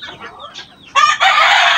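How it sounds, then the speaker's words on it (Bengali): On a farm, Sebright chickens give a few soft clucks, then a loud, close rooster crow takes over and runs to the end. "আমার খামারে অপরূপ সুন্দর যে মুরগিটি দেখতে পাচ্ছেন তার নাম সেব্রাইট।"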